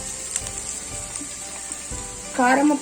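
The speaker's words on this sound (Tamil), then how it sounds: "இது நல்லா பொரிஞ்சதும், கிராம்பு வந்து வெடிக்கும்" Steady sizzling of cloves and spices frying in hot oil with a few sharp crackles and pops, then a brief voice near the end.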